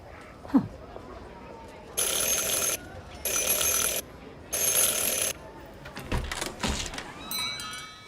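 Door bell rung three times in the game Syberia The World Before, three loud bright bursts of equal length in a steady row, after a faint earlier click and before some rattling mechanical movement.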